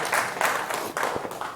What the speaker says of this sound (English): Yeah, sure, you can applaud that.